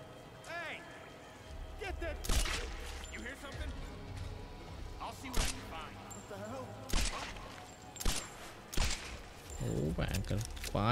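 Sharp gunshots in the Tomb Raider video game crack out one at a time, about five spread across the stretch, loud against a low game background with a person talking over them.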